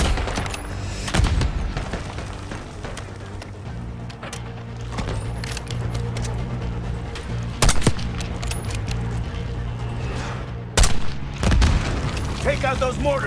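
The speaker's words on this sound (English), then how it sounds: "Incoming mortar! Move!" Mortar explosions boom in a Call of Duty Black Ops 6 battle, heavy impacts bursting over a rumbling backdrop of gunfire, with two sharp loud blasts late on and soldiers shouting.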